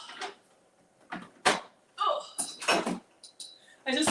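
Someone arriving at a home's front door, heard as a series of short, sharp knocks and door bumps spread unevenly over a few seconds, close and moderately loud.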